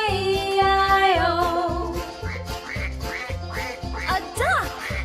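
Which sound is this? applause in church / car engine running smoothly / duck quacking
duck quacking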